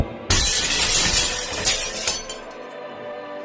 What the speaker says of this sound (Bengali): ঘরের জানালার কাঁচগুলো চূর্ণ বিচূর্ণ হয়ে গেল।